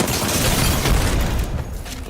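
A frag grenade explodes in a ranked console shooter match, a loud broadband blast that rumbles for about a second and a half before tapering into a fading low tail.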